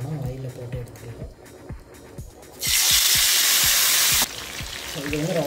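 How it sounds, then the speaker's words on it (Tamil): Mushroom pieces for Mushroom 65 go into hot oil, and a loud, close sizzle bursts out and holds for a second or two, while a voice talks over soft rhythmic clicks before and after. "ஸோ ஆயில் நல்லா ஹீட் ஆனதும் எண்ணெயில் போட்டு பறிச்சு எடுத்துடலாம்."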